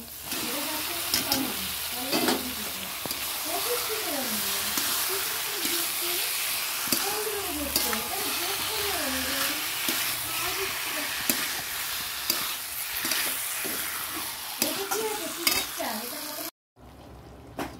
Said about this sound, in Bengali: আচ্ছা, চিকেনটা দিয়ে দিচ্ছি।